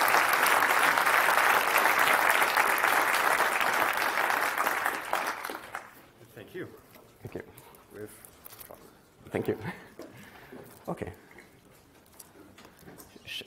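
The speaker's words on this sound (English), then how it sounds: "So big applause for enabling this." Loud sustained applause from a large audience for several seconds, then fading out into scattered claps and faint murmuring.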